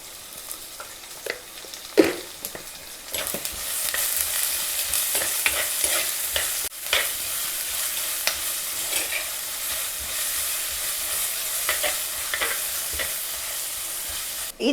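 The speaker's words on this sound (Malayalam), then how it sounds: "ഇതിപ്പം സവാള നന്നായിട്ട് വഴറ്റി വന്നിട്ടുണ്ട്." Sliced onions sauté in a pan, a steady close sizzle broken by frequent scraping and clinking stir strokes of a spatula for the whole stretch, no voices.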